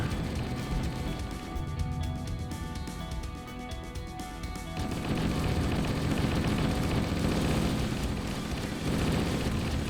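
Gunfire in the Halo: Master Chief Collection video game: continuous rapid automatic shooting mixed with explosive bursts and a roaring, flame-like wash, loud and chaotic throughout.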